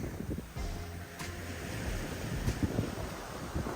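Sea waves wash onto the beach at Dawlish, Devon, a continuous roar of surf mixed with strong wind buffeting the microphone, with no voices.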